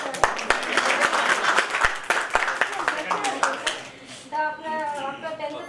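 A crowd claps enthusiastically at a 25-year reunion gathering, a dense burst of applause that fades after about four seconds as a voice begins speaking.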